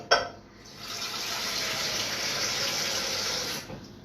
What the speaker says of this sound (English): get that saucepan back for more water for later on.